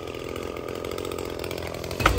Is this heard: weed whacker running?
yes